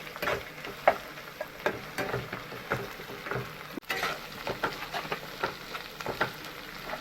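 Two spoons of ginger garlic paste frying with lightly browned onions in oil for a fish curry, a close, steady sizzle broken by frequent scraping stirs and clatters, with no talk.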